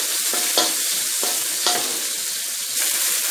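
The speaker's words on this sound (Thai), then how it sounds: "ใส่พริกขี้หนูแดงนะคะ ใส่เห็ดค่ะ" Water spinach stir-fries with red bird's eye chillies and mushrooms in a hot pan, a continuous bright sizzle broken by several sharp spatula scrapes and clacks, with no talking.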